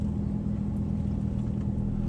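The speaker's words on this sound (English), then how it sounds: "I'm in an unmarked Chevy Silverado pickup truck" Inside an unmarked Chevy Silverado pickup truck while driving, with a steady low engine and road drone that stays constant throughout and no talking.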